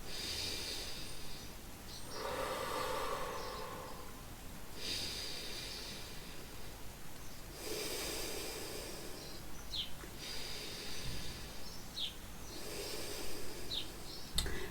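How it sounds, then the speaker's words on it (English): Rhythmic inhales and exhales during a Pilates glute exercise, several hissing, snort-like breaths repeating at a steady pace, close and fairly quiet with no talking. "Inhale up, exhale down."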